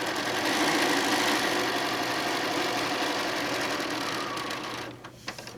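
A sewing machine runs steadily and loudly while stitching quilt pieces for the Cat City pattern, then stops near the end, leaving a few soft clicks.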